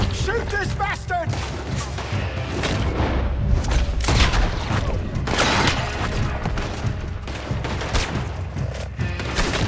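Loud, dense gunfire rings out during a Red Dead Redemption 2 saloon brawl over a liquor business, repeated sharp shots and booms overlapping close by amid shouting voices.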